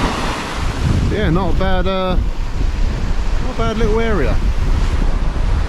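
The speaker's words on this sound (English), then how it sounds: "Sea looks a little choppy." Choppy sea on the Norfolk coast washes steadily as surf under heavy wind buffeting the microphone, while someone speaks twice over the rushing noise.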